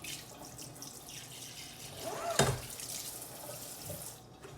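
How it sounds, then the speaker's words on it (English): Tap water runs steadily into a sink while coffee grounds are rinsed out of a latte-making filter screen, a continuous close splashing with a brief louder gush midway. "Then I make sure that I rinse it out really well."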